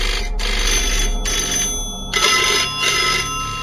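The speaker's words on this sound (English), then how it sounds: "walking around, hear the telephones going. They've got old-fashioned telephones in there" Old-fashioned telephones ring inside the RAF East Kirkby control tower: several loud bursts of bell ringing separated by short gaps, close by and with no talking.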